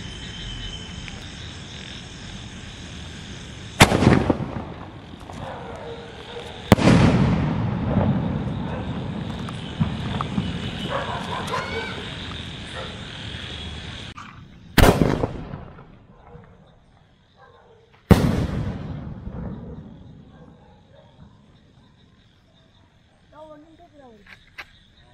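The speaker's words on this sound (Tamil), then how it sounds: "இது வந்து மேலே போயிட்டு கொஞ்ச நேரம் நின்று ஒரு பொழியிற மாதிரி வருமா. ஸோ எப்படி இருக்கு வெடிச்சு பார்க்கலாம்." Sivakasi Diwali aerial firework shells burst outdoors, four loud sharp booms spread out with crackling and fizzing trails between them, over night insects chirping, and a person talks in between.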